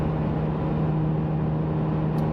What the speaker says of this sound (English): Now we're going a little over the speed limit, so there is some road noise in here.